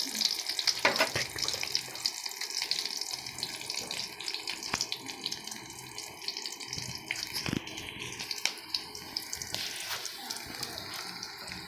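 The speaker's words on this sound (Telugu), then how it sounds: "ఇప్పుడు మనం పోపు పెట్టుకున్నాము" A tempering of spices fries in hot oil for rasam, with onions browning in the pan, giving a low continuous sizzle with frequent crackles and pops and occasional stirring scrapes nearby.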